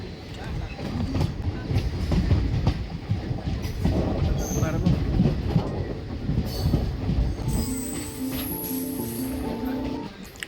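A passenger train on the Kuzhithurai to Rameswaram route rumbles steadily over rails near a railway bridge, with continuous clickety-clack and a tonal squeal near the end, heard from on board under faint voices.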